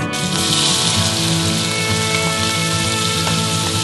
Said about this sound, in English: we're going to put them in the skillet that has the bacon fat in it and let that saute for about 5 minutes